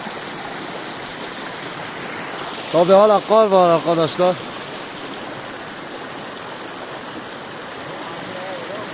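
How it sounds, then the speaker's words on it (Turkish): A flowing creek rushes in a constant, close, full wash of water noise, with someone speaking briefly over it partway through before the water carries on alone. "Gördüğünüz gibi dere de akıyor."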